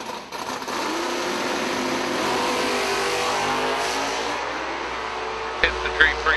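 A Super Stock F automatic Camaro drag car roars at a steady high pitch for several seconds at an IHRA drag racing event, with crowd noise and a few sharp bursts near the end.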